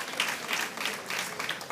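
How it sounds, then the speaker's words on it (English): Audience applause at a sickle cell disease health event, a steady wash of many hands clapping at moderate distance, with no talking over it. "A wonderful round of applause."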